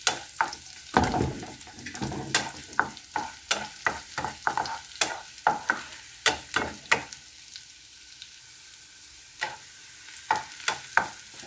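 Garlic and onion sautéing in plenty of heated cooking oil, a steady close sizzle broken by a quick series of sharp spatula scrapes and stirring strokes against the pan, thinning out toward the end.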